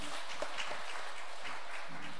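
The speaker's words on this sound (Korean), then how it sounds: "이 영광의 박수 하나님께 올려드리겠습니다" A church congregation at a Wednesday prayer meeting applauds, giving a dense, steady wash of clapping that lasts throughout with no pauses.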